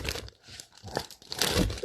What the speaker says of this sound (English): John, you want to put the marshmallows in? Yeah. How much? The whole bag